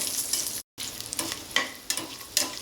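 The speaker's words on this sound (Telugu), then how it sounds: "ఇది బాగా వేగిపోయింది. జీడిపప్పు కొంచెం కలర్ మారాక వేసుకోండి." Cashews frying in a pan for coconut milk rice, a close steady sizzle broken by a few sharp stirring scrapes and one brief cut to silence.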